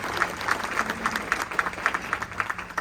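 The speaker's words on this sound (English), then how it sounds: "So, round of applause to our past chair here, Bianca Sandoval with Austin." An audience at the RHCA Luna Awards gives a round of applause, with clear, fairly rhythmic individual claps at moderate loudness over a steady low hum from the venue.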